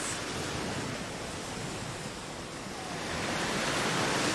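Ocean waves wash onto a sandy beach as a soft, steady broadband hiss, faint and continuous, swelling slightly toward the end.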